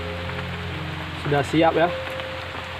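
Rain falls steadily as a soft, even hiss outdoors, while a person speaks briefly over it.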